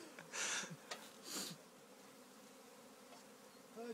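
A honey bee swarm clusters on a tree branch about twelve feet up, giving a faint, steady background hum with a few louder close buzzes as single bees pass near, and no talking.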